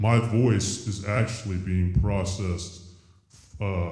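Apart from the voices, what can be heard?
No everyday noise stands out behind the speech.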